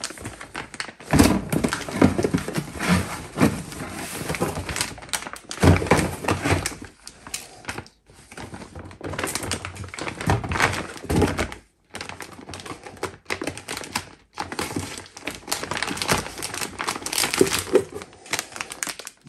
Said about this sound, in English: So let's unpack it.